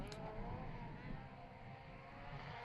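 A high-revving four-cylinder rally car engine at the International Rally of Whangarei, its rising whine and roar sweeping past at moderate distance, faint and continuous over a brief burst.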